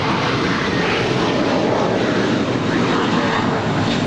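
A five-year-old JetBlue Airbus A321 takes off from an LAX runway, its engines a loud, sustained broadband roar that stays steady and close for the whole stretch.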